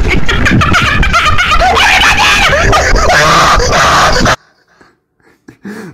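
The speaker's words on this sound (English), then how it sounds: "The way they just went from a laugh to a freaking scream." Several people scream loudly and chaotically in a meme clip, a dense overlapping burst that stops abruptly, followed by quiet and faint voices.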